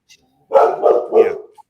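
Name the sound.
dog barking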